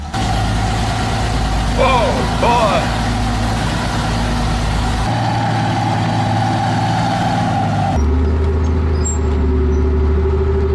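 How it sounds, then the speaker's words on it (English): A Chieftain tank's huge gasoline engine runs with a deep, steady rumble, loud and close throughout, while a voice speaks briefly over it. "this sounds like V24 or something. Huge gasoline engine."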